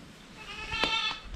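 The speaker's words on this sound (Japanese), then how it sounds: "初めて来たよ、聞いたよね、小ヤギの鳴き声。" A young goat at a goat farm in Itoshima, Fukuoka, gives a single close, wavering bleat of about a second over quiet outdoor background.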